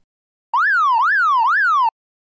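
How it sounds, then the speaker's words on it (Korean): A 119 ambulance siren wails in a clean, loud, electronic rising-and-falling pattern, three sweeping cycles lasting just over a second, alone with no talk. "그리고 119 구급차의 사이렌이 크게 울립니다."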